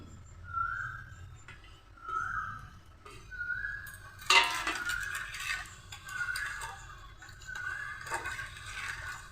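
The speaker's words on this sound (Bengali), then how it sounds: "এর মধ্যে এবার আমি বাদামের গুঁড়োগুলো মিশিয়ে দেব" A spoon stirring ground nuts into sweetened milk in a pot for homemade matka ice cream: a series of rhythmic scraping strokes about a second and a half apart, with one sharper clink of metal midway, quiet and close.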